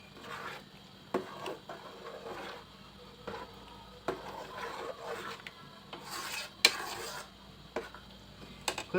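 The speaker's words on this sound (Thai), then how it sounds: "เดี๋ยวผมเคี่ยวจนให้มันได้ที่ครับ" A spoon scrapes and rasps repeatedly against a pot while homemade banana fishing bait for tilapia is stirred as it cooks down; the strokes are close, irregular and alone, with no talking.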